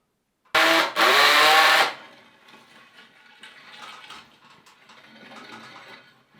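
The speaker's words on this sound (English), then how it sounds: "Now I'm putting in the screws" A power drill drives screws into a guest bedroom ceiling, one loud whirring burst with a short break and then a longer run, followed by quieter handling and scraping noises.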